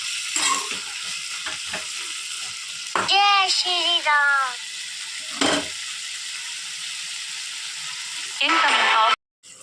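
Tomatoes cook in a pan for coriander chutney, a soft sizzle with occasional stirring scrapes, broken by a few squeaky, whistling clatters and a sudden cutoff near the end.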